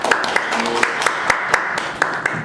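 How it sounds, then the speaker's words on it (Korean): Audience clapping at a National Assembly forum on the June 15 Joint Declaration, a thin, fairly regular patter of claps at moderate distance with some voices underneath. "박수로 모시겠습니다"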